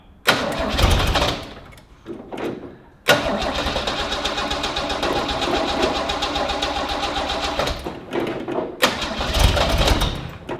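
A Holden HG car engine cranks briefly, stumbles, then catches and runs at a rough idle before cutting out and firing again, loud and close, with no talk over it.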